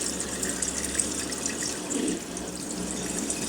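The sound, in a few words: Haier washing machine pumping water out of the drum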